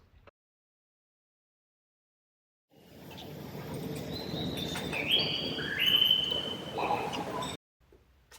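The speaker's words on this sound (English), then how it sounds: "the sounds of birds singing, which brings the feel of a tropical rainforest emerging into the space" Birds chirp and sing in a hotel lobby filled with hundreds of plants, meant to feel like a tropical rainforest. Their bright, overlapping calls fade in after a silent start, grow through the middle and then cut off abruptly.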